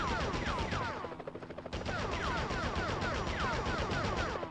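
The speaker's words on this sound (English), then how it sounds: "Enough with the shooting already." Rapid gunfire rattles in the Spider-Man video game, dense repeated bursts of shots running almost continuously with a brief gap partway through, moderately loud with no talk.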